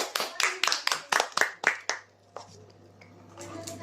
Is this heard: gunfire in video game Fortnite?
no